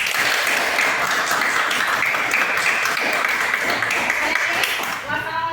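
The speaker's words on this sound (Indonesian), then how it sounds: "Tepuk tangan untuk kalian." Audience applause at the close of a school presentation, steady dense clapping from a crowd filling the whole stretch and easing slightly at the very end.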